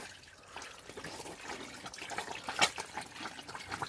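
Piglets drink from a water pipeline, giving faint, uneven trickling and dripping with small splashes and a brief sharper splash near the middle.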